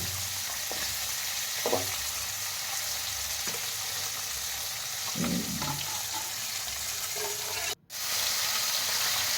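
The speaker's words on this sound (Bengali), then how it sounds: "এবার মাছগুলোকে খুব সুন্দরভাবে ভাজবো" Steady crackling sizzle of climbing perch (koi fish) frying in hot oil throughout, with a few soft clinks and scrapes of utensils and a brief dropout near the end.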